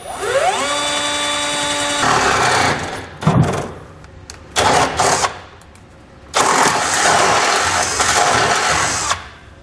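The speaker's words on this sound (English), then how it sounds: "I'm just going to use a half inch bit. I'm going to come right against the bottom of the floor" A power drill with a half-inch bit bores through the steel floor of a pickup truck bed from underneath, the motor spinning up with a whine, then grinding in several loud bursts broken by short pauses.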